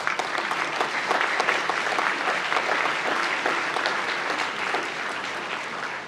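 Audience at a University of London graduation ceremony applauding newly presented graduates, sustained even clapping from a large hall crowd, steady throughout and gently fading at the end.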